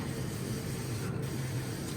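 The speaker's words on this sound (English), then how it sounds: "Let's spray it down with a little bit more of this olive oil." Olive oil sprayed onto a turkey before smoking it outdoors in the cold: a steady, faint hiss of spray running on throughout, with low rumble underneath and no voices.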